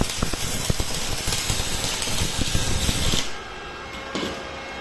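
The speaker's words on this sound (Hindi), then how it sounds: "वेल्डिंग हो रहा है।" Steady crackling buzz of arc welding from a repaired Arc 275 single/two-phase welding machine, loud and close, running continuously for about three seconds before cutting off to quieter background hum with a brief final flare.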